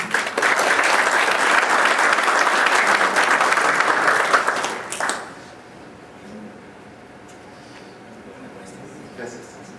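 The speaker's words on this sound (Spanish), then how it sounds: "Un aplauso, por favor" A conference panel audience claps loudly and steadily for about five seconds, then the applause stops abruptly and the room falls quiet.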